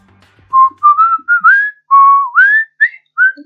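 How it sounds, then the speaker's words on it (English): Someone in a video game whistles a short melody of about eight clear, sliding notes, loud and close, with no talking. "whistling would sound bad anyway"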